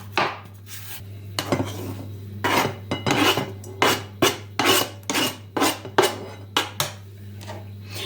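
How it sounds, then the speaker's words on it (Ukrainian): A very sharp knife slices salad ingredients very thinly on a board, giving a close series of crisp, rasping cuts in uneven bursts over a steady low hum, with no talking. "Але ріжу, ну, дуже тоненько."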